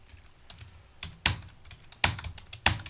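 Computer keyboard keys are tapped in TallyPrime, a few soft presses followed by three sharper, louder key strikes spaced about a second apart, close by with no talking.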